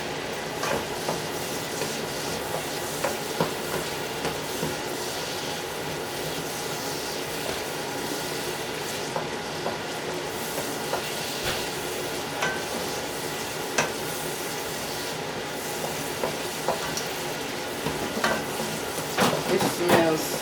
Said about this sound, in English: Then you just want to saute them around, for 2 or 3 minutes until they get tender.